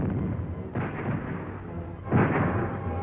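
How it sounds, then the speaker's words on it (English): Shells and hand grenades explode in battle on a 1930s newsreel soundtrack of the defense of Madrid: two heavy, booming blasts about a second and a half apart, each rolling out into a long rumble. "The enemy counterattacks again and again, hurling shells and hand grenades."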